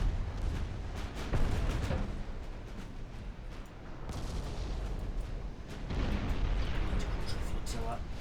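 Battleship guns fire armor-piercing rounds in the naval warfare game Ultimate Admiral Dreadnoughts. Deep rumbling booms and rolling cannon blasts keep up a dense barrage throughout, with a voice talking over it.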